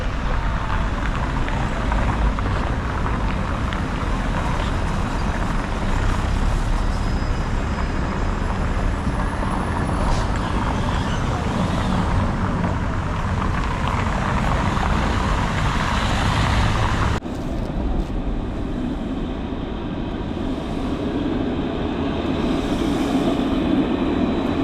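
A tram rumbles and rolls in on Tenerife with a long, steady mechanical roar and rattling, loud and close, with a brief shift partway through.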